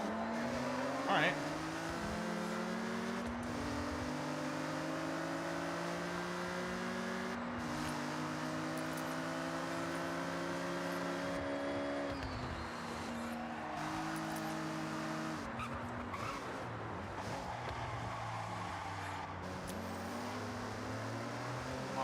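A Honda NSX in Forza Horizon 6, driven in stock B-class form, its engine note rising and falling steadily through gear changes with light tyre noise, continuous and close with no pauses.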